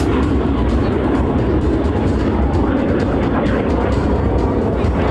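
Frecce Tricolori jets climb away at the New York airshow in 2024, a loud, steady roar of jet engines that fills the whole stretch, with crowd or announcer voices blended faintly into the din.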